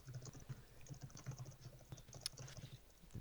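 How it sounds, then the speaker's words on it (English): Soft, quick keystrokes tapping on a computer keyboard in an irregular patter, faint and close, with no talking over them. "I was typing something."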